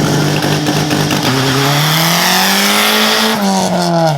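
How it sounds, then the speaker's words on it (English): EG hatchback with one-wheel drive doing a launch-control burnout, engine revving loud and close with a rising pitch, then dipping briefly and climbing again, tire squeal layered over the steady roar. "That was just a legit burnout."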